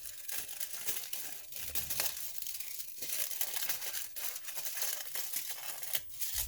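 Paper being cut into squares with scissors while crafting a Ramadan advent calendar: steady close crinkling and snipping rustles, continuous and busy with no talk.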